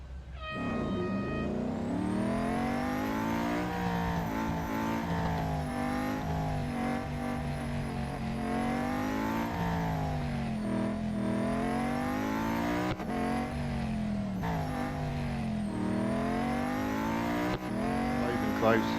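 Race car engine roaring continuously with rising and falling revs and gear shifts around a Formula E circuit in the mobile racing game Real Racing 3, loud and steady throughout.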